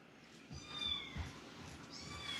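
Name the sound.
cat meowing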